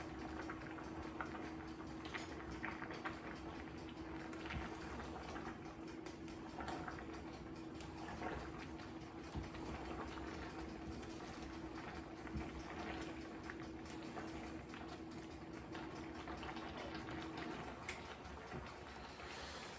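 A pot of water at a full, steady rolling boil for spaghetti, bubbling continuously and evenly close by with a faint steady hum underneath, and no voices.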